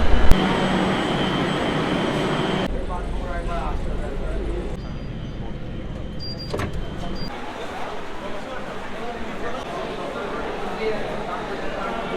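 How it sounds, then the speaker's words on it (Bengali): A metro train bound for Howrah rumbles and roars into a station, loud and near, with a brief squeal of wheels and a voice talking over the noise. "মেট্রো কিন্তু চলে এসছে"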